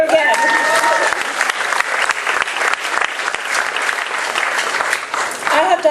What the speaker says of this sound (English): Everybody clap for each other again.